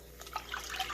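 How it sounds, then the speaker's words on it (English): Milk, two cups of it, poured into a saucepan for chocolate gravy: a brief, quiet liquid trickle with faint dripping notes, heard alone. "We're going to add our 2 cups of milk"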